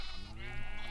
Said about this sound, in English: So yeah, so we got some sheep over here.